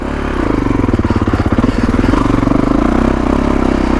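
A 2021 Kawasaki KX450X dirt bike engine chugs at low revs on a trail, loud and close, with a steady pulsing thump that rises slightly in the middle.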